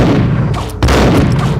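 Gunfire in the Max Payne video game comes as close, heavy booms, with a strong blast near the middle of a short burst of dense shooting.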